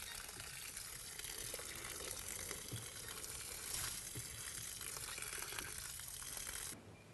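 Water runs into a garden furrow beside planted lima beans, a faint, steady trickling and gurgling rush that goes on evenly before easing near the end.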